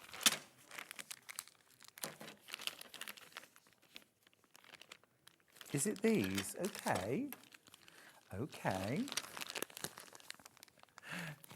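Plastic packaging around a pack of scissors being crinkled and torn open, quiet rustling bursts with a person speaking briefly in between.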